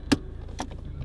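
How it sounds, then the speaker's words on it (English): Power-folding door mirrors on a BMW 1 Series 123d SE, two brief whirring motor bursts close by inside the cabin, quiet against a low idle hum. "Folding mirrors."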